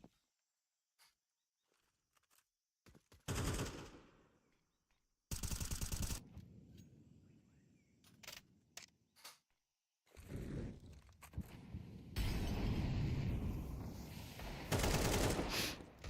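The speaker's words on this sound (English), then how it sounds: "Couple shots there." Gunfire rings out in a Counter-Strike esports match. Several loud, rapid automatic bursts are separated by quieter gaps with footsteps and faint game ambience, and no commentary can be heard.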